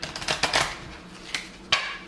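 A deck of playing cards for the 7th Citadel card game is shuffled close up, giving a few quick papery riffling bursts separated by short pauses.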